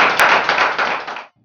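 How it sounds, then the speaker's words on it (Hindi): An audience at a Hindi poetry gathering breaks into a short, loud burst of applause that cuts off abruptly after little more than a second. "जोरदार तालियों के बीच।"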